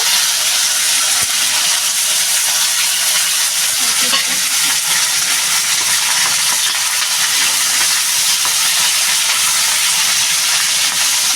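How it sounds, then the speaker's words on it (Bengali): Cut okra lightly fries in a pan with crushed garlic, a loud, continuous close sizzle and hiss that holds steady from start to finish with no talking. "এবার আমি এই যে ভিন্ডিটা কেটে রেখেছি ভিন্ডিটা একটু দিয়ে একটু হালকা ভেজে নেব"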